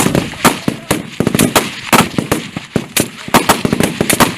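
Rapid gunfire from a military shooting drill, with sharp shots cracking in irregular bursts close by and a few quick single reports between them over about four seconds.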